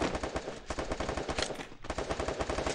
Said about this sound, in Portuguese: Um tiro pra finalizar.